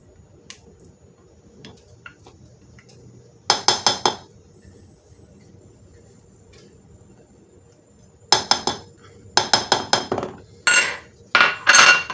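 A spoon scoops melted chocolate into a no-bake chocolate cheesecake mixture, giving sharp clinks of utensil against bowl in scattered clusters, several quick taps together, with quiet gaps between.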